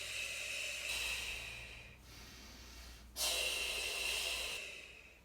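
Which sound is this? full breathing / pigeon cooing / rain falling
full breathing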